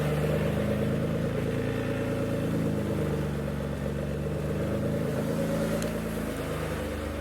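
A Mitsubishi GTO engine idles steadily in a smoky garage after camshaft oil seal work, a close, even mechanical hum with a rough pulsing note that holds throughout.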